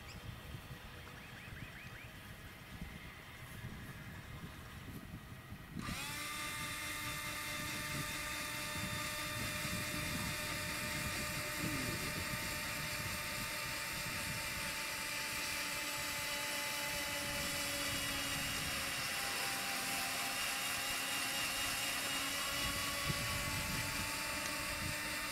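A steady mechanical whine starts abruptly and drones on continuously with a sustained tonal hum, like a motorized drill running at constant speed, from a soil sampling drill mounted on a farm robot.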